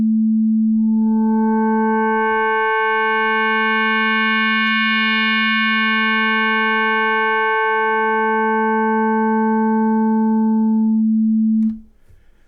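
A Manatee synth FM tone whose modulation amount is driven by LFO2: a steady, harmonically rich pitched drone about eleven seconds long, with its brightness gently shifting, played alone and ending abruptly.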